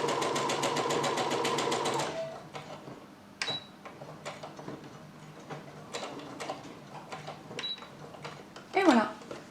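A sewing machine topstitches a seam on briefs 3 mm from the edge, with a rapid steady stitching run up front, then short bursts and clicks after it stops. A voice talks quietly throughout.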